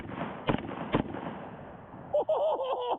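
A Scar 17 rifle fires .308 rounds: two sharp, loud shots about half a second apart, followed by a short burst of talk.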